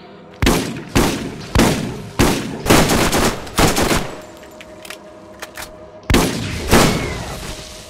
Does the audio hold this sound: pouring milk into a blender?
no